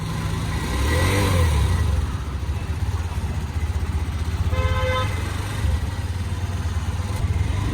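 A sport motorcycle, apparently a Yamaha MT-15, starts up and revs in bursts, rising and falling engine roar close by, with a brief horn toot and people talking nearby.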